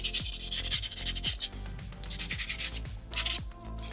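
Sandpaper rasps over a small soapstone fox carving in repeated short back-and-forth strokes, close and steady, with no talking.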